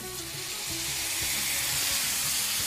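Soy sauce hitting a hot pan while making chicken Manchurian, producing a steady, loud sizzle and frying hiss that continues evenly throughout.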